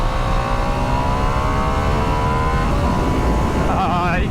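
Loud, continuous engine drone from a 2022 Ducati Streetfighter V2 motorcycle rising in pitch as it revs, a throaty exhaust note climbing steadily and close up.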